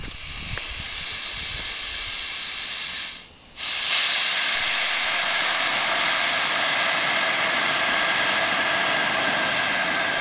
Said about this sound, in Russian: Пара на целый паровоз.